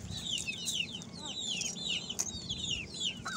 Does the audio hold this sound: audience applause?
no